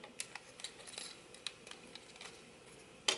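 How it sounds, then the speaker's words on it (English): Plastic panels of a Transformers toy, the Voodoo Robots PS02S Animus, being folded: a quiet run of small, sharp clicks and ticks at an uneven pace, with a slightly louder snap right at the end. "from here, you're going to fold up these panels"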